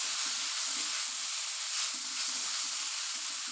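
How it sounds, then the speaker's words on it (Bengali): Noodles with dried chilli are stirred in a pan over a high gas flame, a constant close sizzle with repeated scraping stirs of the spatula breaking through it. "এবার আমি এই গ্যাসের ফ্লেমটা হাইয়ে রেখে ভালো করে নাড়াচাড়া করে নেব"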